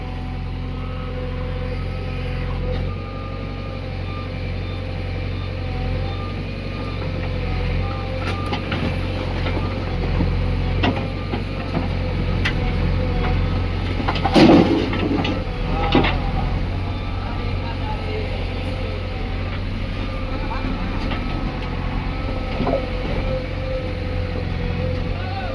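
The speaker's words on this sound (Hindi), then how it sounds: "पीछे कर ले ट्रैक्टर, पीछे कर ले ट्रैक्टर," Diesel tractor reversing near a JCB 3DX Plus backhoe loader loading mud, a steady low engine drone throughout with a brief louder clatter midway, while people talk nearby.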